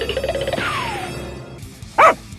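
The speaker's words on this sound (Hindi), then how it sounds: "अरे यार, ये कुत्ते क्यों हमारे पीछे पड़े हैं?" Dogs bark at a chase, sounding as a couple of sharp barks: a whining, falling yelp early on and one loud, close bark near the end over rustling movement.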